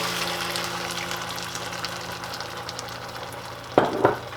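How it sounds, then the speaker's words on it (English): Chicken sizzling in a pan as red enchilada sauce is poured in, a steady frying hiss with a couple of sharp splattering bursts near the end, no talking. "So now I'm going to add in my red enchilada sauce."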